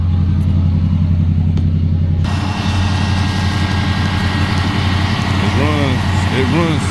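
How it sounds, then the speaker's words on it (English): A daily-driver project car running on its factory motor, a steady low engine rumble held close and loud throughout, with an indoor garage hum early on and brief squeaky tones near the end. "the car runs really good"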